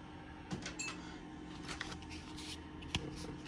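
A deck of playing cards shuffles and rustles inside a drawer of a Snap-on Epiq toolbox in an autobody technician's shop, with a few small clicks and bumps of drawer contents. The sound is brief, close and moderately quiet.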